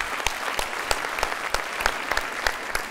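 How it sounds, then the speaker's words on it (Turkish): Studio audience applauding on a Turkish quiz show, a steady burst of many clapping hands heard alone at moderate volume without talk. "şu ana kadarki performansı ayrı bir alkış hak etti"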